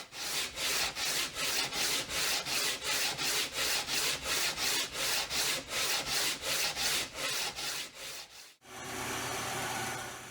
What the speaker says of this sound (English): Here I'm sanding a radius into the fretboard.